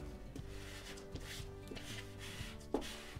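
Vinyl decal layer being scraped onto a surface, faint repeated rubbing strokes in a steady rhythm, close and quiet with a soft tap near the end.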